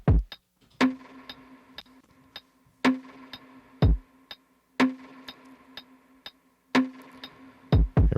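Lo-fi drum beat built from Reason stock drum sounds, with deep kick thumps, snare hits and small percussion ticks in a steady looping groove, fairly quiet and soaked in reverb, with no talking.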